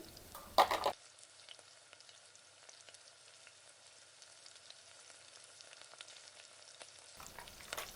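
Fried eggs simmer in a pan of egg Manchurian gravy with a steady, soft sizzling hiss that runs on alone, opening and closing with a few brief louder bursts.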